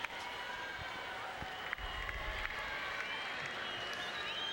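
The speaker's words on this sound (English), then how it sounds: "Some of the crowd getting involved there because they thought that shot from Agassi was long" At the 1999 US Open tennis final, a stadium crowd stirs with a faint broad murmur and scattered claps after a shot, a low, diffuse background wash rather than a loud outburst.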